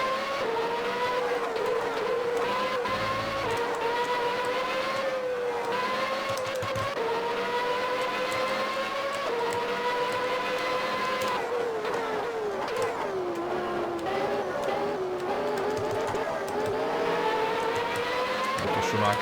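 Formula 1 race car engines from the Grand Prix 4 video game, a 1992-season Benetton among them, scream continuously at high revs, the pitch rising and dipping through gear changes and corners, loud and steady with no talking.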